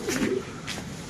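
A pigeon gives a single short, soft coo, close and brief, with no other sound over it.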